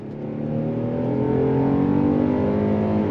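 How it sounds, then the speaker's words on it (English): A 2024 Kia Telluride Prestige X-Line SUV accelerates in normal drive mode, its engine note swelling steadily from a low hum into a sustained, rising drone heard from inside the cabin, with no talking over it. "So that's acceleration in normal mode."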